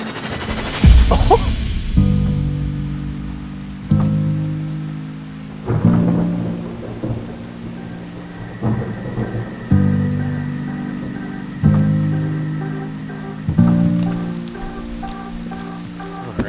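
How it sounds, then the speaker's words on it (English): Steady rain falls while thunder rumbles, with a loud crack near the start and repeated low rolling booms throughout. "It is a rainy, windy day."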